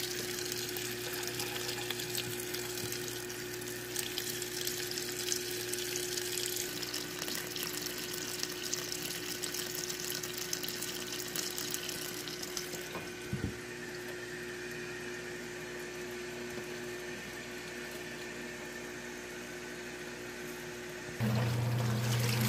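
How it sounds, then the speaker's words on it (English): Steady rushing water pours into a Haier XQBM22-C compact portable washer under a constant pump-like hum, continuous and even throughout, with a brief thump midway and a slight change in tone near the end. "I had the water on medium."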